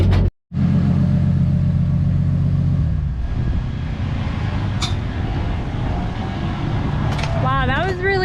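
A 1JZ-powered Fox Body Mustang launches hard at the drag strip with a brief cutout, then a loud sustained engine roar as the tires spin and shake; voices are heard near the end.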